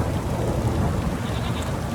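A heavy downpour hisses steadily in The Witcher 3 video game, with low rolling thunder rumbling underneath throughout the brief stretch.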